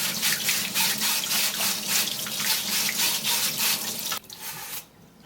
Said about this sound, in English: Put the screener in, and under running water, you're just gonna go back and forth.